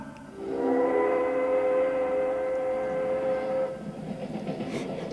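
Train sound effect in an old radio drama: a steady rumble with sustained whistle-like tones that swell in, hold loudly for about three seconds, then cut off, leaving a lower rolling rumble.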